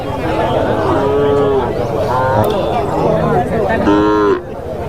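Native cattle and calves at the large Matrapalli cattle market, several drawn-out moos rising and falling one after another close by, over a busy crowd murmur, with people talking throughout.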